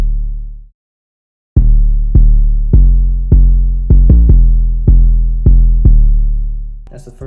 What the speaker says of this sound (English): So I'll show you the first 808 pattern that I came up with.